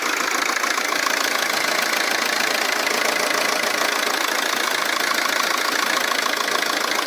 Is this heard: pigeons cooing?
no